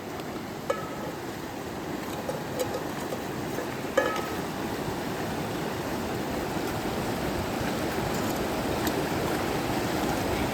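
A river flows in winter cold at minus six degrees, a steady soft rushing wash heard from a short distance, with a few faint bird calls and clicks over it.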